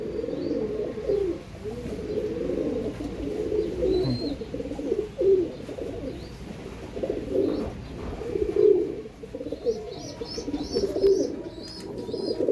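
Repeated soft, low pigeon coos close by, rolling on and off, with occasional faint chirps from other birds.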